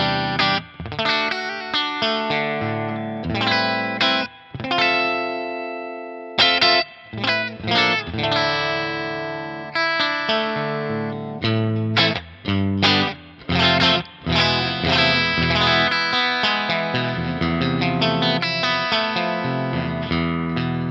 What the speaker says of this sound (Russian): а так в целом вы слышите ламповый звук моего стандартного аппарата. Это R&R VL Multigain